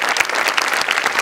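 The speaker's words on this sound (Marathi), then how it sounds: "जोरदार टाळ्या तिघांसाठी" A studio audience at a Marathi comedy show claps for three performers, with a brief, dense burst of close, loud applause.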